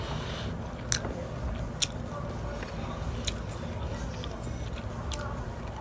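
Chewing and biting on chicken with sweet plantains during a sit-down meal, soft wet mastication sounds close to the mic with a few sharper crunchy clicks spaced apart, over a low background hum.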